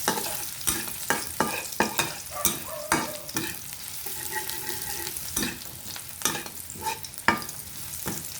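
Garlic browning in a hot pan for chicken curry, a steady close sizzle broken by repeated scraping clicks of a spoon stirring, with no talk.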